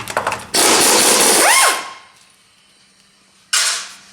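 Power tool in a workshop on 10mm tail housing bolts of a 4R70 transmission, two loud bursts of whirring separated by a quiet gap, the first ending in a brief squeal, close up.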